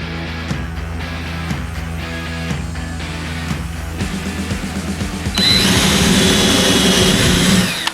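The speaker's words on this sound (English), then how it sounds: "The fun job of drilling rivets again." A power drill bores out rivets during a workshop job, its high whine cutting in loud and steady for the last few seconds after quieter tool clatter and bench knocks.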